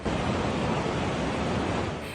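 Rushing floodwater of the overflowing Santa Fe River in San Marcelino, Zambales, roars as a dense, constant broadband wash, loud and close with no voices.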